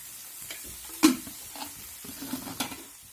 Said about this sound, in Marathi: कांदा चांगला असा करपून घ्यायचा तर तेल डाला लागेल तेल टाकायचं